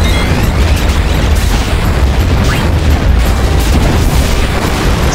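A loud, continuous boom of the Mustard Bomb enemy's attack explosion in the Final Fantasy 9 video game, rumbling densely through the whole stretch with steady heavy low-end roar and crackling bursts, no voices over it.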